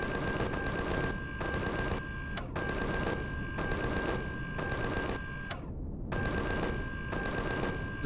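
Turret fire in Empyrion Galactic Survival comes as bursts of rapid, evenly spaced shots, loud and close, separated by short gaps, over a constant droning background hum.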